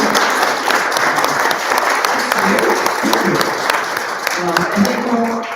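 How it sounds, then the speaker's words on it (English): Indoor audience applause filling the room at the close of a community environmental event, a dense steady clatter of many hands that holds at a constant level throughout. "Can we have a round of applause"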